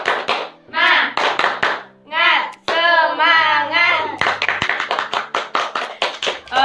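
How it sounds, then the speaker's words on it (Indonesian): A children's group claps out the rhythmic Indonesian scout clap, bursts of quick patterned hand claps alternating with chanted and sung voices, close and loud, in short energetic sections. "Terus tepuk pramuka. 2 kali tepuk pramuka."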